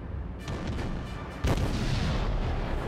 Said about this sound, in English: I fire off shots.